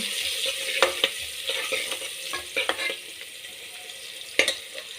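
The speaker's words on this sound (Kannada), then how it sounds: "ಚೆನ್ನಾಗಿ ಫ್ರೈ ಮಾಡೋಣ." Vegetables for puri sagu frying in a pan, with a soft continuous sizzle broken by sharp scraping clicks of a spoon stirring at irregular intervals, close up and fairly loud.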